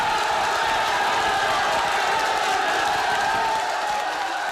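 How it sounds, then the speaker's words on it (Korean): A large crowd roars and cheers continuously, a dense wall of voices filling the space without letup. "장례식장이 떠나갈 듯 함성이 울려 퍼집니다"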